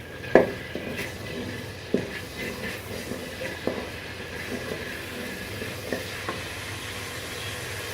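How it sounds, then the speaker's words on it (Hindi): Cumin powder roasting in about two tablespoons of hot oil in a pan, giving a soft steady sizzle with a few sharp stirring clicks and scrapes spaced through it. "ज़ीरा पाउडर को इसमें भूनकर"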